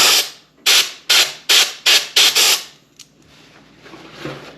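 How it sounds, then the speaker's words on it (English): Compressed air blasted in six short, sharp bursts into a Buddy portable propane heater during repair, loud and close with brief gaps, followed by quieter handling noise. "Let's give it a little spray with the air compressor."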